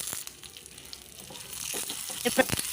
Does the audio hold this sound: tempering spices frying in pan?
yes